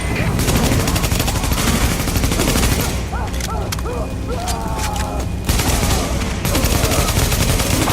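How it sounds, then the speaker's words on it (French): Rapid bursts of automatic gunfire and scattered shots in the video game The Division 2, loud and sustained, pausing briefly before resuming, with a voice speaking in the middle. "Dites, les coups de feu, c'était vous, hein?"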